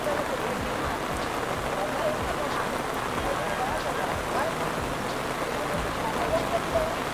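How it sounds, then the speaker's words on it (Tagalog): Heavy rain pours steadily at a cattle stockyard in Bacong, a dense, continuous hiss of drops drumming on surfaces close by, with a voice talking over it at times. "Sobrang lakas po ng ulan."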